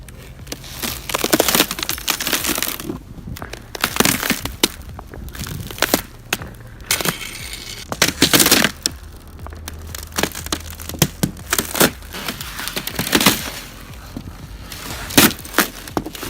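Boots crunching on crisp snow at Lake Tahoe in January: a long series of sharp, brittle crunches and cracks, fairly close and loud, in an irregular walking rhythm with brief gaps.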